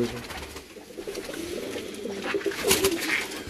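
Loft pigeons, among them the old Sherdil bird, coo steadily nearby in low throbbing calls that grow slightly stronger toward the end, with faint human voices mixed underneath.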